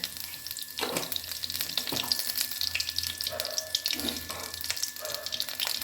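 Nigella seeds crackle and sizzle in hot mustard oil in a pan, a continuous close frying hiss with a few stirring knocks and a brief voice in the background.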